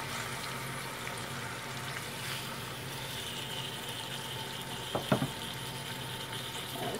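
Steak for a London broil salad searing in a hot pan, a steady broad sizzle that holds evenly throughout, with a couple of brief clatters near the end.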